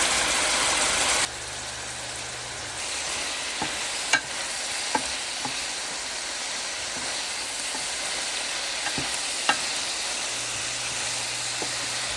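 Garlic sautéing with shrimp in a pan gives a steady, close sizzle with a few sharp clicks from utensils scattered through it, and no one talks.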